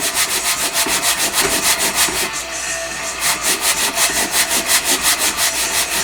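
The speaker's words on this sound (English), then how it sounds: "if you wish to watch someone saw," Hand saw cutting through wood with a steady back-and-forth rhythm of strokes, close and fairly loud, alone with no talking, on a scratch-build project.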